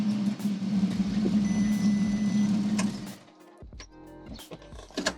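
Audi TT engine starting with the exhaust valves closed, a steady droning idle for about three seconds, then the engine cuts and a few scattered mechanical clicks and knocks follow.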